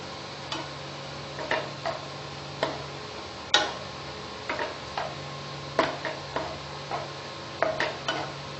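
Fried okra is stirred in a pan, a low sizzle broken by a regular series of sharp spatula knocks and scrapes against the metal, close and alone.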